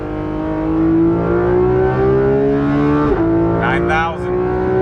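Porsche 991.2 GT3 RS engine pulls hard as the car accelerates, a loud steady rising tone held close throughout, with a brief dip near the middle and someone talking over it toward the end.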